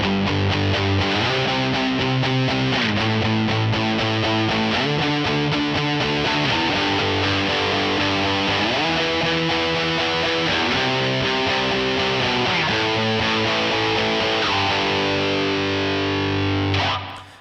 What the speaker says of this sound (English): this was the gain patch I used for the B section of the song for the big rhythm guitars